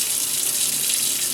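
Water hisses steadily from a clogged kitchen sink pullout hand sprayer, a dense, loud, continuous spray with no talk.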